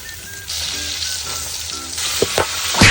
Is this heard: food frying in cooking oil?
yes